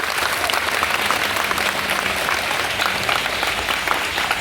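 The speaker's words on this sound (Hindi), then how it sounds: "एक बार जोरदार ताली बजाइए।" A crowd of school students at a school gathering claps loudly and continuously, a dense, even wash of applause with no break.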